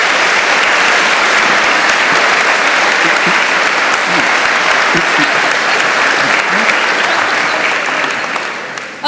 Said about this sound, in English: First of all, quick round of applause for the little discussion we had